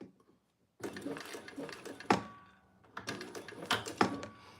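A sewing machine stitches a bag seam in short bursts after a brief silence, with a close mechanical whir and clattering needle strokes, broken by sharper knocks and pauses.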